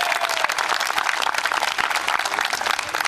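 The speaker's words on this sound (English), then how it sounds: "Let's give them a big round of applause" An outdoor crowd at a park re-dedication applauds with dense, continuous clapping at an even loudness throughout.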